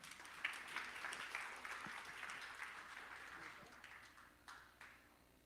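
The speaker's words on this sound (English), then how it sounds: "Great applause for Paweł." Applause welcoming a speaker at an online JavaScript meetup in Warsaw, faint and somewhat distant clapping from a small group that holds steady for several seconds before slowly tapering off.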